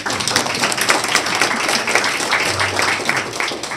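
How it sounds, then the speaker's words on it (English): Attendees at a Cobb County Board of Commissioners meeting clap for Sheriff Owens, a lively, close round of applause with distinct hand claps, sustained for a few seconds before easing slightly. "yes, we can clap for our sheriff."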